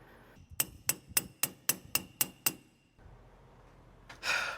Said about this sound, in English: after a little bit of hammering, I got it off